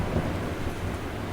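Steady, rumbling wind noise buffets the microphone outdoors, a constant low roar with no pauses.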